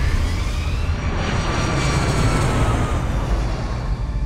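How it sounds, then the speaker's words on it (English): An airliner's jet engines at takeoff, a loud steady roar with a rising whine layered on top, sustained throughout without any talk. "Cactus 1549, runway 4, clear for takeoff."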